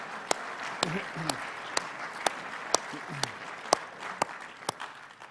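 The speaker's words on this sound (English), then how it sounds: "we didn't give him the round of applause yet" A conference audience at a military institute event gives a round of applause: a steady hiss of clapping is punctuated by sharp, evenly spaced louder claps close by, with a voice speaking over part of it.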